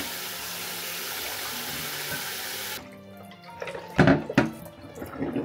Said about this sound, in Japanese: 水でしっかりと洗います。